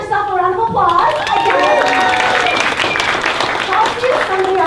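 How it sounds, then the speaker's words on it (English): Crowd applause and cheering at a presidential campaign rally, loud clapping that swells after a voice and carries on with shouts and whoops from the audience. "Give yourself a round of applause."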